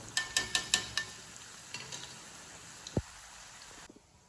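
Bajji fritters frying in hot oil and turned now and then, a steady soft sizzle broken by a quick run of sharp clinks and scrapes at the start, then scattered lighter taps before the bubbling fades.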